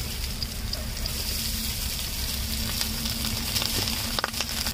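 Rice hits a hot pot and sizzles, giving a dense, steady frying hiss with a few small crackles and clinks, close and fairly loud throughout.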